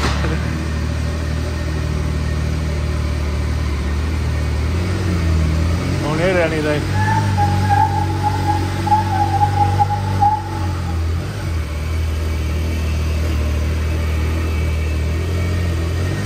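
A 2024 Can-Am Maverick R XRS side-by-side engine turns over and settles into a steady, low rumbling idle close by, while people talk over it.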